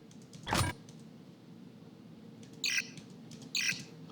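Glitch effects for a Lamborghini Revuelto cinematic: a sharp burst of static-like crackle followed by two short warbling, stuttering digital chirps over a low steady hum.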